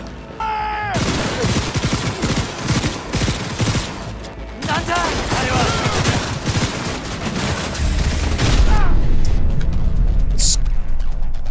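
Rapid automatic gunfire rattles in long bursts during a Cyberpunk 2077 firefight, loud and continuous with short gaps, alongside explosions and game sounds; someone talks over parts of it.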